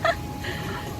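Bird calls ring out at the start, sharp and loud, as parrots squawk near a waterfall in Manavgat, Turkey, over a steady background roar of rushing water.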